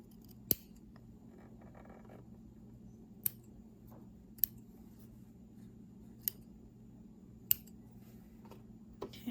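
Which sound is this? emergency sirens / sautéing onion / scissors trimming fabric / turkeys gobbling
scissors trimming fabric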